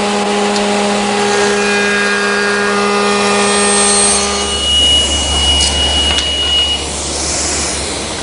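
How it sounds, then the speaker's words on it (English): A router with a 3/8 inch radius bit shapes 3/4 inch thick by 1 inch wide wood stock. A loud, steady, tonal motor whine gives way midway to a rougher roaring cut as the wood feeds through. "I'm going to run it through a 3/8 inch radius bit."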